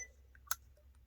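A remote control for a Spirit Bell Pro magic trick gives one faint, brief click against near silence.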